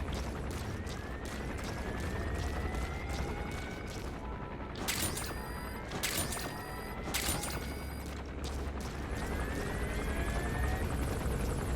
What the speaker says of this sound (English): Yeah, of all the enemies that proved to be the problem, it's definitely the helicopter that's at the top of the list.